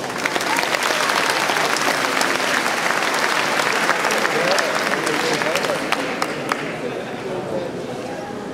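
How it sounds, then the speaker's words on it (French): Loud, sustained applause from a crowd at a cosplay contest at a science-fiction festival, a dense wash of clapping with some voices mixed in, fading slightly toward the end. "Merci d'applaudir très fort"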